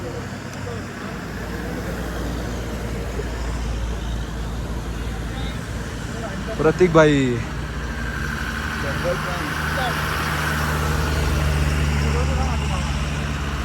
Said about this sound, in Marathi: या सर्व गाड्या आर्मीच्या पहाडीवर चालल्या आहेत